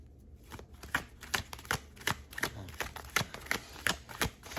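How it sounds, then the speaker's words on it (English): Tarot cards are shuffled by hand in a quiet room, producing a run of soft, crisp riffling slaps at an uneven rhythm, close and alone without talk. "Shuffling for Sagittarius."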